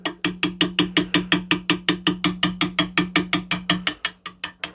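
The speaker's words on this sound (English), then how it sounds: "So let's give it a slight tap." Rapid, evenly spaced metallic taps, about five per second for nearly five seconds, drive a pin out of a Remington 700 trigger assembly. The strikes are close and crisp over a steady hum and slow slightly at the end.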